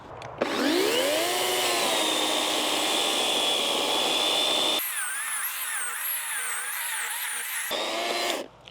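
A Vitals AKZ 3640S cordless saw runs on ProCraft batteries with a steady, loud whirring drone, and its pitch shifts partway through as the load changes before it winds down.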